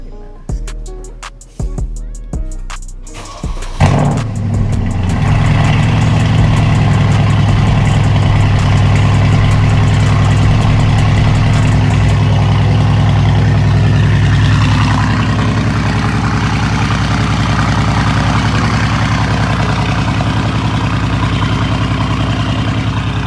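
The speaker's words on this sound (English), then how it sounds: "we're going to go ahead and give you a cold start of the AMG" Mercedes-AMG car engine cold-starts with a few cranking bursts, then catches and settles into a loud, steady idle close to the microphone for the rest of the stretch.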